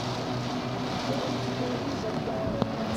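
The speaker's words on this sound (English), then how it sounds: "Look at all the rain on our sunroof." Rain drumming on the sunroof and window of a car driving through a thunderstorm, a steady dense wash of patter and rumble under talk inside the cabin, with one sharper tap near the end.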